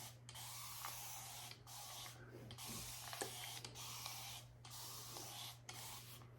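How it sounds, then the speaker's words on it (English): A handheld continuous-mist water spray bottle hisses in long, steady bursts, about five sprays separated by short pauses, close and fairly quiet, used to dampen a synthetic wig. "I love these water bottles because you can spray, touch it, and it just continues to spray."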